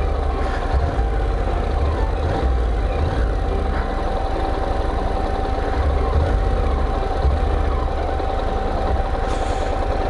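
A Honda NC750 driving-school motorcycle creeping at very low speed, its engine a steady, loud low rumble close by with no change in pitch throughout.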